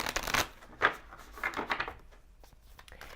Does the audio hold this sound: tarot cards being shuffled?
yes